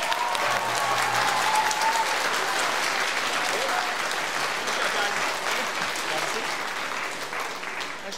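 Sustained audience applause at a middle school spring band concert, a dense steady wash of clapping from a large crowd that fades slightly toward the end.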